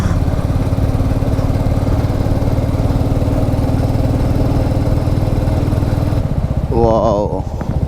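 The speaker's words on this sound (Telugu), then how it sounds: "చాలా రోజులైంది నా బైక్ని ఘాట్లో డ్రైవ్ చేసి." Motorcycle engine droning steadily while riding a winding ghat road between Tirupati and Bangalore, close and continuous with a dense low rumble, then a voice speaks briefly near the end.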